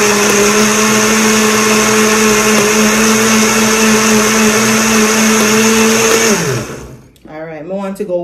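A blender motor whirs loudly and steadily, then winds down and cuts off near the end, leaving a brief quieter moment with faint sounds.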